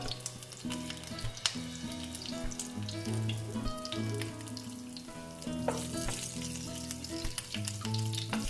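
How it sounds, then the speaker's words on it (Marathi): Curry leaves and cumin seeds dropped into hot oil for a traditional bhogi vegetable dish, crackling and sizzling loudly up close alongside clinks and tonal ringing from utensils. "तेलामध्ये कढीपत्ता टाकूया जिरं"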